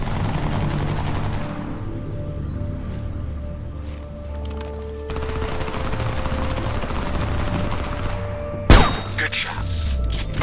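A single sharp rifle shot rings out in the video game Homefront amid a dense, rumbling battlefield ambience, the crack standing out loudly near the end.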